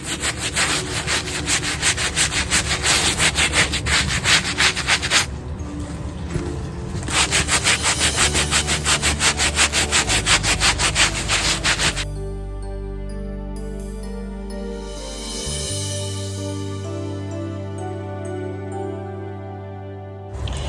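A fabric grow bag is scrubbed clean with a brush in loud, fast, continuous back-and-forth rasping strokes that pause briefly, followed by a steadier, smoother stretch of rubbing.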